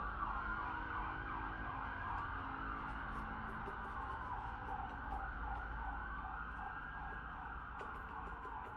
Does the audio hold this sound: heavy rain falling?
no